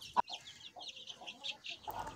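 A hen clucks softly in short, scattered notes, fairly close, with a sharp knock near the start and faint rustling throughout.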